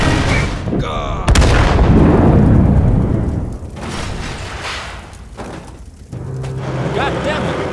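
Tiger and Sherman tank cannon fire in a reconstructed war-film battle scene, heavy booms with rumbling decay and a sharp crack, loud and close, under shouted voices.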